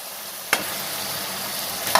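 Chilli chicken fries in a pan with a steady close hiss of sizzling oil, broken by two sharp clanks of stirring.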